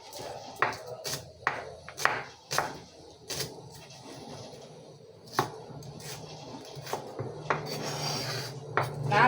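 Onion being chopped into small pieces with a knife on a cutting board: a close, irregular series of sharp taps that comes in quick clusters and then brief pauses.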